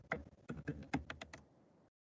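Typing a message on a computer keyboard, a short burst of close key taps in uneven rhythm that ends in a pause, with no one talking.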